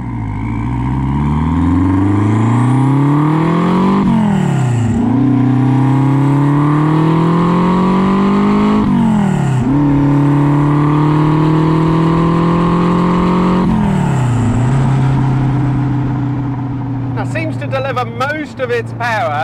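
A Renault 5 Turbo 1 accelerates hard through the gears on a warm day: its engine note climbs steeply three or four times, each rise cut by a quick dip at the shift, loud and close, with some talk near the end.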